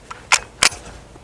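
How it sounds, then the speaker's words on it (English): An FAL rifle bolt released forward to chamber a round from a new DSArms magazine: two sharp close metallic clacks about a third of a second apart, loud and isolated with no talk. "I'm going to release the bolt and see if there's enough tension on the magazine to let the bolt go forward."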